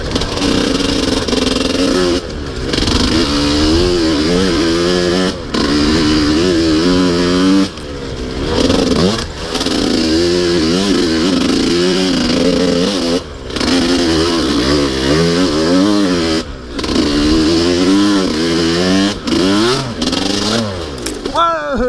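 A 125cc motorcycle churns through deep mud, its engine revving hard and wavering in pitch with repeated throttle blips and brief drops, loud and close throughout.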